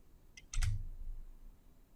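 Computer mouse clicks while selecting a spreadsheet cell: a quick cluster of three or four sharp, close clicks within a fraction of a second, followed by quiet room tone.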